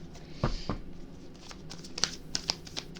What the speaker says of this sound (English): Give it one last shuffle.